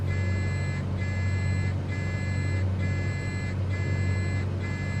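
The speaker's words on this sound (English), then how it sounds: "That's some pretty annoying beeping." Steady, evenly spaced electronic beeps repeat about once a second over a loud, constant low engine drone inside a small aircraft cabin.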